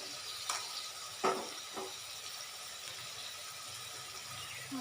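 Curry powder and coriander powder frying in a pan, giving a faint steady sizzle with a few scraping stirs and clicks early on.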